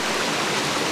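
Steady, dense rushing of a waterfall, broadband and continuous with no breaks over a single second, loud and close with no voices.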